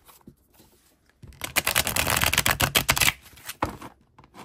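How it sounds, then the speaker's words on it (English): A tarot deck is riffle-shuffled close by: a quick, crisp flutter of clicks for about two seconds, followed by a couple of light taps. "I am going to shuffle."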